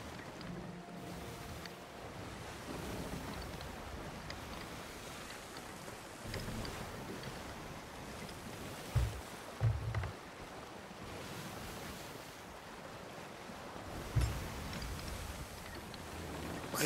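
Ocean waves wash against a sailing ship in the Sea of Thieves pirate game as a low, continuous surge of water and wind. A few dull thuds of the hull hitting waves stand out along the way.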